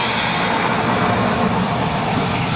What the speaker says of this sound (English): they have some helicopter sounds in the background.